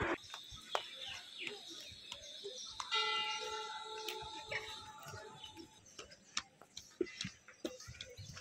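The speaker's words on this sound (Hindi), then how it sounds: "इतना शांत माहौल हो रखा कि पक्षियों की आवाज़ आ रही है," Birds chirp and call around the grounds of the Shri Hanuman Dham temple in Ramnagar, Nainital, with repeated short tweets and a sustained whistling song over a quiet outdoor background, plus occasional faint ticks and knocks.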